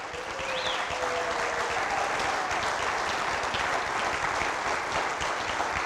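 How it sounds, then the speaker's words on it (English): Sustained crowd applause at a Clarion sports hall of fame ceremony, a dense, even roar of many hands clapping that rises quickly and holds steady, with a faint whistle at the start. "Every single person that's clapping right now"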